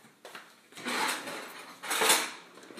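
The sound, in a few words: mixing food in a bowl with a spoon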